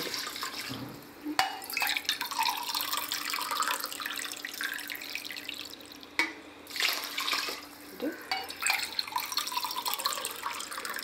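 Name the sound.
pouring water into electric rice cooker for biryani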